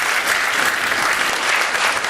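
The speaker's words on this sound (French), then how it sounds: "on peut encore applaudir Kautar, s'il vous plaît." Loud, dense audience applause at a stand-up comedy show, a continuous roar of clapping hands that stays even from start to finish, close and without talk.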